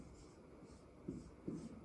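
Hand-writing an equation: a pen or chalk scratches softly in short strokes, with two slightly louder taps near the end, all faint.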